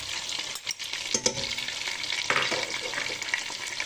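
Chopped onions frying and being stirred in a cooking pot, a steady close sizzle with scraping clatter from the utensil, no voices.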